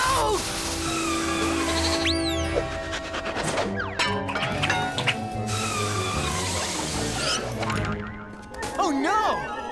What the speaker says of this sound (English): A baby mountain goat is stuck on the snowy mountains.